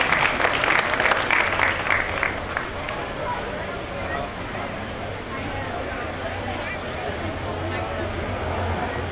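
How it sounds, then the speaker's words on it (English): A county fair crowd applauds the goat exhibitors, a burst of clapping over the first couple of seconds that thins into a steady murmur of crowd noise and background hum. "Let's give him a big round of applause for goat exhibitors."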